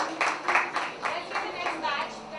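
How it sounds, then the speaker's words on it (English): Brief scattered clapping for the first set of winners at a promotional event, a handful of separate, uneven claps close by rather than a full crowd ovation. "Give them a round of applause."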